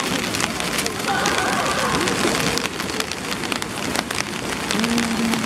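Steady rain falls on a Myeong-dong street at night in Seoul, a dense continuous hiss of drops on pavement with a brief faint tonal hum near the end and no clear talk.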